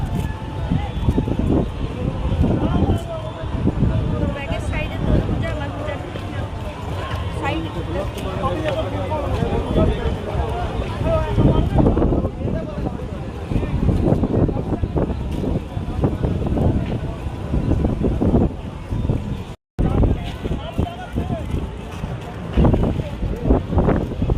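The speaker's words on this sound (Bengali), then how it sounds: "প্রচুর হাওয়া দিচ্ছে" Strong wind buffets the microphone in loud, gusty rumbles at Maithon Dam, with voices talking faintly beneath and water or boat noise in the background.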